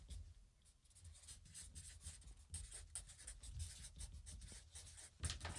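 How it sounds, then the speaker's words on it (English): Pen or pencil writing on paper, a soft continuous scratching with short stroke bursts and brief pauses, close and fairly quiet, with no talk. "Let's see what they're writing."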